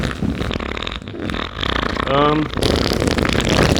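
A short, buzzy fart sounds midway through, partly masked by a voice and other close, noisy sounds around it.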